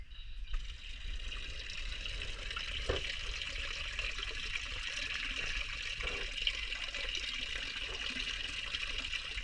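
Water trickles and splashes steadily in an ornamental aquaponic pond with rice fish on a veranda, a soft continuous outdoor flow with a couple of brief louder drips.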